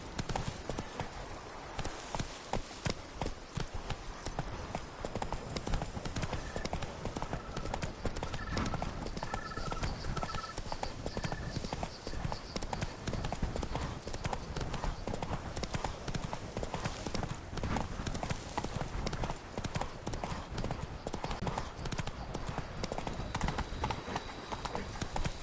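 Roach, the horse in The Witcher 3, gallops at a long, steady pace, dense hoofbeats pounding close and loud, with faint game sounds and a brief tonal chime midway.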